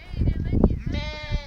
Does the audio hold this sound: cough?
no